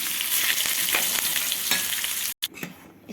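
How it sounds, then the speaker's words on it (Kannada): Asafoetida, green chilli, curry leaves and coriander hit hot oil for a tempering, a loud close sizzle and crackle that runs steadily, then cuts off abruptly and returns softer. "ಇಂಗು ಹಸಿಮೆಣಸಿನ್ಕಾಯಿ ಕರಿಬೇವು ಕೊತ್ತಂಬರಿ ಇದನ್ನೆಲ್ಲ ಹಾಕಿ ಒಗ್ಗರಣೆ ಹಾಕಬೇಕು"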